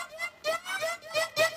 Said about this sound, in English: So I tried another synth from Serum